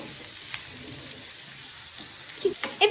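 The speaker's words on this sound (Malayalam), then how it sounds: "എന്നിട്ട് ഇതൊന്ന് നല്ലോണം ഒന്ന് മിക്സ് ചെയ്ത് കൊടുക്കാം" Capsicum and onions fry in a pan with a soft continuous sizzle, broken near the end by a few close clinks and scrapes of a spoon stirring.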